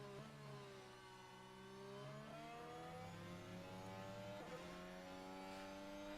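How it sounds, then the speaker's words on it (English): Formula 1 cars at the Mexico Grand Prix qualifying pull out of the pit lane, several high-pitched engines whining and shifting through gears, overlapping tones rising and falling, distant and faint with no talk. "the cars are making their way out of the pit lane"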